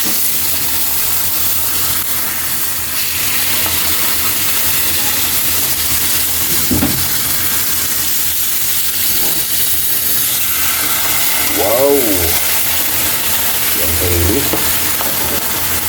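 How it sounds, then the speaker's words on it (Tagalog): Dried milkfish, daing na bangus, frying in a pan with a steady, loud broadband sizzle and hiss that runs throughout, broken by a few brief voiced exclamations near the end. "balikan na natin yung piniprito natin"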